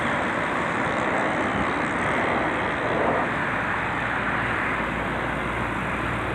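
Traffic on the Islamabad expressway heading toward Lahore: a continuous, even roadway roar of passing vehicles, moderately loud and unbroken throughout, with no voices.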